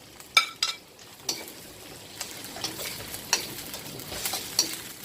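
Tomatoes tossed into a frying pan for pinakbet, giving a soft steady sizzle with a few sharp clinks of a utensil against the pan as they are stirred, no voices.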